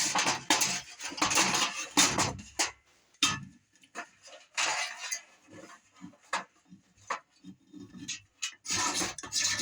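A small chunk of fat wood being scraped with a blade, giving bursts of short dry rasping strokes in an irregular rhythm, close and fairly loud, with brief pauses between passes.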